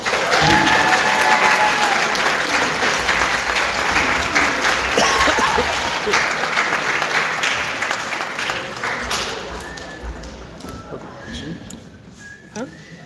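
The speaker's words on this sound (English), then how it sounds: "Give them a round of applause." A school auditorium audience at a spring high school band concert claps loudly for color guard members, the dense applause gradually thinning and fading, with a few scattered claps and faint cheers near the end.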